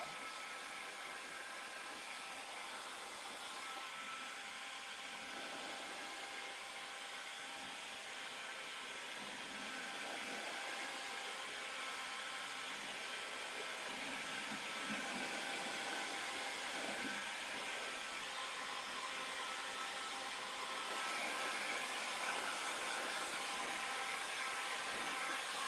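A hair dryer blows steadily for a long stretch, drying built-up paint on a craft piece; the constant airy whir holds a fairly even level and grows slightly louder toward the end, with no talking.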